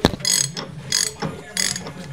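A big wrench ratchets against a large nut on an excavator boom cylinder, three bursts of sharp clicking pawl noise in a close, uneven rhythm with brief pauses between pulls.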